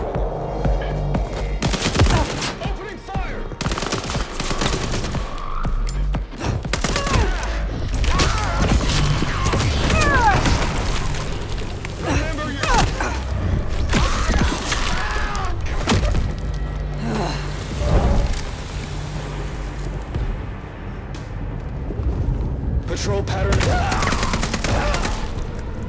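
Bursts of gunfire crackle and rattle in the video game Vampire: The Masquerade - Bloodlines 2, with repeated volleys, metallic creaks and mechanical clatter across a loud, busy combat scene.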